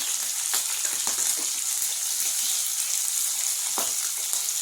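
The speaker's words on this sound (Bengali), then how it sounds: "এই তেলে একটু কালো জিরা ফোড়ন দিয়ে দেবো।" Black cumin seeds sizzle in hot oil, a steady close frying hiss with a few faint clinks of stirring, no voices over it.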